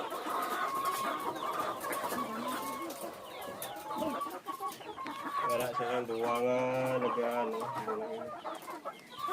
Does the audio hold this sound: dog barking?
no